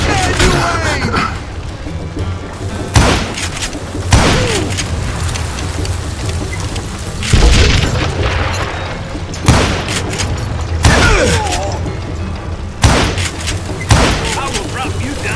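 Loud revolver shots crack out one at a time in the Western shooter Call of Juarez: Gunslinger, each a sharp booming report spaced a second or two apart, mixed with game chatter and voices talking.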